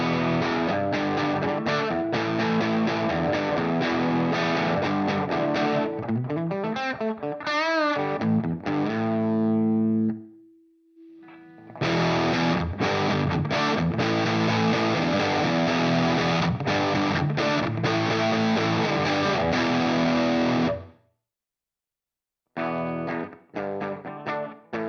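Distorted electric guitar played through a Headrush amp modeler loaded with a NAM capture, at normal settings. Dense chords and riffs ring loud and alone for about ten seconds. A brief sustained note follows, then another long loud passage and a short burst after a gap.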